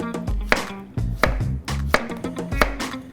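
A Lau Kingdom Damascus steel chef's knife chops vegetables for the grill on a cutting board, giving a series of about eight sharp, close thuds at an uneven, brisk pace with no talking.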